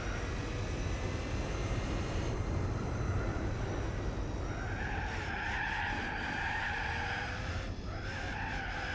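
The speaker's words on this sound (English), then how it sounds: "Ever seen an LM race car drifted before?" An LM race car drifts in Gran Turismo 4, its tires skidding in a long continuous screech over a steady engine drone, loud and close with no talking.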